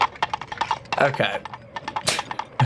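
Coconut halves clopped together imitate horse hooves in a comedy film scene, a quick series of sharp hollow knocks, mixed with voices talking over them.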